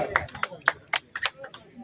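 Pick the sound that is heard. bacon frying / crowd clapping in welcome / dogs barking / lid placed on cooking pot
crowd clapping in welcome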